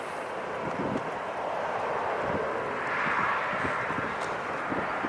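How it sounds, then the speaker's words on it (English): A large airliner, an A380, taxiing slowly at LAX, giving a steady distant engine roar with wind noise and no talk. "Lefty is slowly taxiing."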